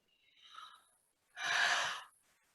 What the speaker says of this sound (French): mais je baille